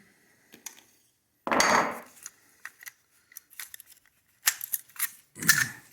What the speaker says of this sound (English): It doesn't want to come out, so let me get a hammer.